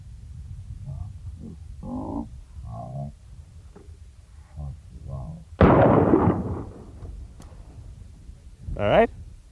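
A single loud handgun shot fired from the hip after a concealed carry draw on an outdoor range, striking a steel plate target, with someone talking before it and a short metallic ring after.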